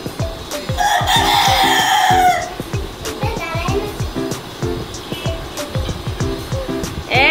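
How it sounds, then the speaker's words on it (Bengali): A rooster kept in a rented home crows loudly nearby in one long call, followed by clucking, rhythmic tapping and a person talking. "আম্মু আমাদের মোরগ ডাকতেছে।"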